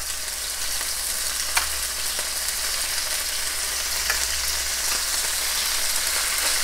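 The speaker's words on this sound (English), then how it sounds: "We're going to let that sizzle away." Steady, loud sizzling of meat browning in hot oil in a Dutch oven, a continuous crackle with a few sharper pops, no voices.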